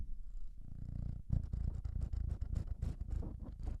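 A new kitten purrs close up, a low rumbling purr that starts smooth and then turns into a dense run of rapid rhythmic pulses, with some scratchy rustle mixed in and no talk.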